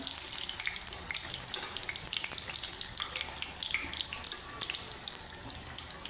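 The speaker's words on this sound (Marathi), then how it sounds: "थोडासा गॅस मिडियम करूया आणि तळून घेऊया" Coriander vadi deep-frying in hot oil over medium heat, a steady close crackling sizzle with scattered sharp pops that runs unbroken throughout, with no voices.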